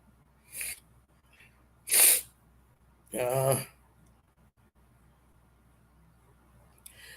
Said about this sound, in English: like I said, I just got the sneezes